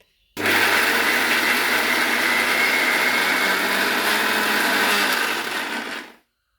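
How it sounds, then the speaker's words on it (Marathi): A kitchen mixer grinder whirs loudly as it grinds fresh coconut pieces, starting abruptly, holding a steady, dense roar for about five seconds, then spinning down and stopping. "तर हे काप आपण मिक्सरला फिरवून घेऊयात."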